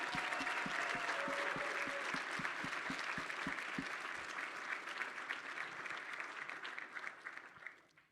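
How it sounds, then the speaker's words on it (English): A crowd at a youth entrepreneurship demo day applauds the presenting founders in a broad, steady wash of clapping, with regular low thumps marking a beat early on before the clapping trails off. "can we have one round of applause for all the founders that presented today?"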